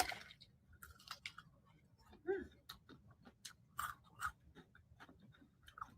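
Close, fairly quiet chewing and crunching on a crispy chicken wing, irregular bites with moist mouth noises and low background hum.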